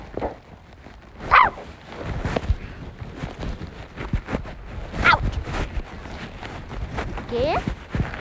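Dogs barking at another dog during a bike ride, several sharp barks spaced through the stretch and mixed with road and movement noise, with a voice talking.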